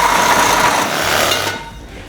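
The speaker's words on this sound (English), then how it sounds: "we're going to cut this baby with the Sawzall" Battery-powered lithium Sawzall reciprocating saw cutting through a homemade abs machine structure, a loud buzzing rattle for about a second and a half before cutting off abruptly.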